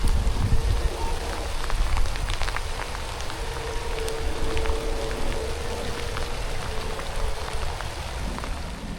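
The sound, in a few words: rain with wind and thunder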